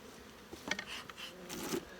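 Honeybees in a large hive opened after winter hum in a low, close drone, quiet and uneven, with a few brief sharper rustles and knocks from working the hive.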